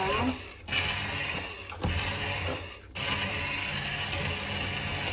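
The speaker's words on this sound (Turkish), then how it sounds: "Şimdi blenderdan geçiyoruz" A blender purees red pepper soup, whirring loudly and steadily, its motor roaring in long continuous stretches broken by brief pauses.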